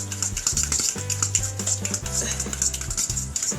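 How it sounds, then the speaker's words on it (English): Butter and brown sugar being mixed by hand for cookie dough, a busy run of clinking and scraping from a utensil working against the bowl, close and fairly loud. "Mix the butter, brown sugar until it's blended"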